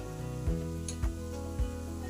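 Ginger, cumin and green chilli paste sizzling as it fries, a steady hiss broken by three evenly spaced clanks of a spoon stirring against the pan.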